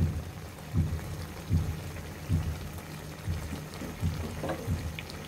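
A thick curry of tender stalks and small kachki fish with stone-ground spices bubbles and plops gently in a pan, soft rhythmic blips recurring about every second against a low steady background hum.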